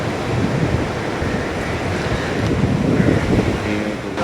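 Sea waves roll in at Dadar Chowpatty beach in Mumbai, a loud, continuous wash of surf mixed with heavy wind buffeting the microphone, with no break in the roar.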